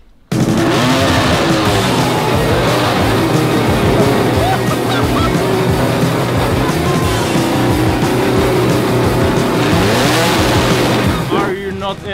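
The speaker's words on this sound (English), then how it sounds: "Have you ever seen a Formula car? F1?" A loud, roaring Formula One race car engine screams continuously at close range as it drives past, sustained and harsh throughout, then drops away abruptly at the very end.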